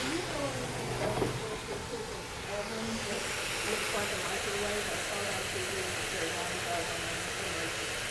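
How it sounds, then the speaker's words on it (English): Steady hiss of steam venting from a pressure cooker in a kitchen, a constant broad rush that holds on without pause at a moderate level. "it's probably a convertible convection pressure cooker, I betcha"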